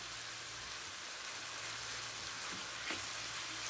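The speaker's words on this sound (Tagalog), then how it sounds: "Pan-fry lang natin siya guys hanggang maluto." Zucchini and chicken breast pan-frying in a stir-fry, a steady close sizzle with soft crackle and a couple of brief stirring scrapes near the end, no voices.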